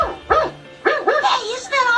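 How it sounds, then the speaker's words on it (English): A cartoon puppy gives a few quick yappy barks and whines, close and bright, mixed in with animated voices. "They run into a dog."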